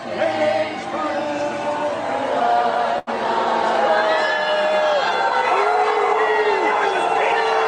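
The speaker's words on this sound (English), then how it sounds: "Were they booing the prosecutor? Booing the defense team." Large outdoor crowd after a court verdict, loud continuous booing and jeering with shouts and chatter mixed in, briefly cutting out once before resuming at full strength.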